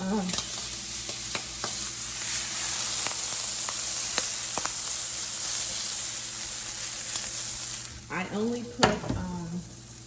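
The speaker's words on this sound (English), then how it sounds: "Now I'm just adding a little butter onto the bun. Let it toast a little bit." Butter sizzles steadily in a hot pan as a bun toasts for a shrimp and mushroom sandwich, a close, continuous frying hiss with a few light scrapes and knocks of a utensil, and a brief clatter near the end.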